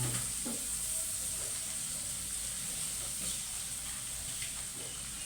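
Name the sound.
onions sizzling in pan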